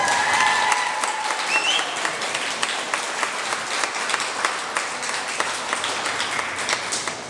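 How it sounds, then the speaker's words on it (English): Audience applauding an aviator at Shadowfest 2023, a Shadow microlight aircraft gathering; steady, dense clapping from a sizeable crowd fills the whole stretch at close range, sustained without a break and fading only slightly toward the end. "he deserves another round of applause, please."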